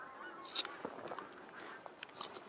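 A flock of geese honks while flying overhead, the calls faint and distant, scattered in short irregular bursts over quiet outdoor air.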